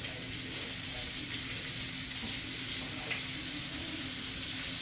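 Cubed ham frying in bacon grease on a farm breakfast stove keeps up a loud, even, hissing sizzle with a faint background hum and no talking.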